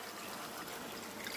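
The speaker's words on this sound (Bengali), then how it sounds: "এখন পানি দিয়ে দিচ্ছি।" Water pours steadily into a pot of duck meat that is nearly boiled through, a faint, even trickling and splashing that lasts the whole moment with no talk over it.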